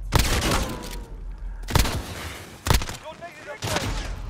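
Loud, sharp gunshot blasts from a shotgun in the video game Call of Duty: Modern Warfare, roughly four heavy booms spaced about a second apart, mixed with other gunfire and game effects.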